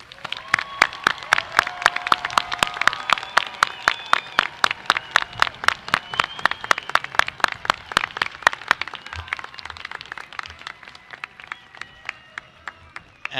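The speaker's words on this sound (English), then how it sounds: "Another round of applause for our graduates." An audience at the 2024 TCNJ School of Science commencement ceremony claps for the graduates in sharp, evenly spaced beats, a long run of rhythmic clapping that softens slightly toward the end.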